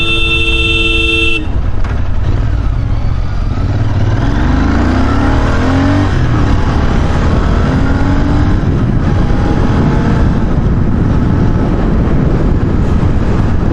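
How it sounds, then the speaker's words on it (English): Royal Enfield Interceptor 650 parallel-twin engine blipping its throttle on downshifts, loud and close, with rising and falling revs in quick bursts over a steady engine drone. "I mean, I was blipping the throttle, but"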